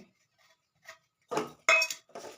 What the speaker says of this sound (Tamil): எல்லாத்தையும் கலக்கலாம்